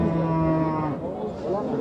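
A mother cow with her calf at a livestock market gives a long, deep, drawn-out moo close by, which dips and rises again near the end.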